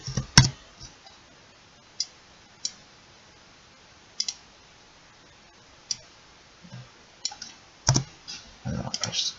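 Several sparse keystrokes on a computer keyboard while a Small Basic program is being typed, isolated taps with gaps between them and a quicker cluster of clicks near the end, close and fairly quiet.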